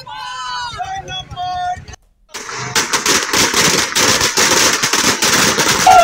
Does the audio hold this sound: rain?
no